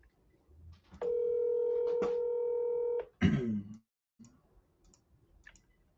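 Touch-tone keypad beeps as a mobile phone number is dialed, a long steady tone followed by a short clattery burst, then quiet with faint murmurs.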